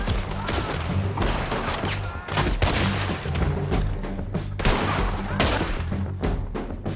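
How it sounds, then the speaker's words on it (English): Dense, loud gunfire from many weapons fills a Red Dead Redemption 2 shootout, with overlapping shots and heavy booms in a continuous barrage throughout. "Shoot the bastard!"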